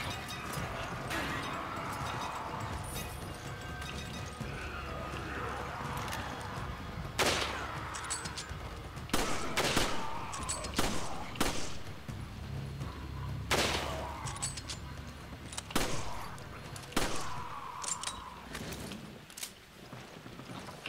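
Bursts of gunfire in the video game Resident Evil 5, several sharp shots and short volleys spaced apart over a continuous background drone, no speech.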